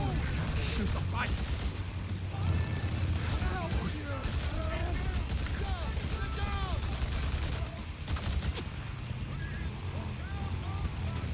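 Dense rapid gunfire in a video game, aimed at a bike, crackles continuously in loud volleys, while a person talks over it.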